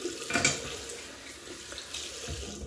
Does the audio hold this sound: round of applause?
no